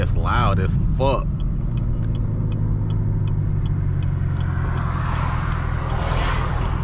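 A 5th gen Camaro rumbles loudly nearby, its deep exhaust drone steady throughout, with a voice speaking briefly over it at the start.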